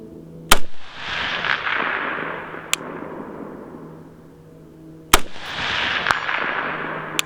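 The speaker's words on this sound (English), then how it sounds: "We're gonna go ahead and take like 5 shots at it." Rifle shots from an ACR DMR rifle fired at a target: two loud, sharp cracks several seconds apart, each followed by a long rolling echo that fades slowly, plus a faint click between them and no talking.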